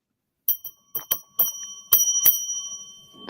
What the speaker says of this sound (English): me ringing your bell now?